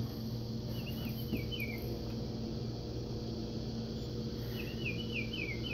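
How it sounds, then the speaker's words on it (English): A battery-powered bird clock for sale at a garage sale gives a bird call on the hour: two faint bursts of quick, high chirps over a steady room hum, with no talking. "So each hour it chirps a different bird"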